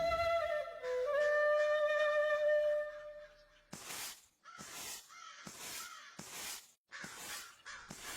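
Several crows caw in a series of harsh, close calls, following a sustained tonal sound at the start.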